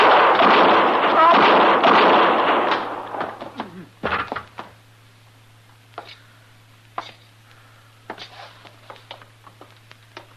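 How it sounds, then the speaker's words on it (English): Gunshots in a western radio drama set at sundown: sharp bangs ring out after a stretch of tense dialogue, followed by scattered irregular thuds and pops against a low steady hum. "You killed both of them, Mr. Dillon. I didn't even get a shot off"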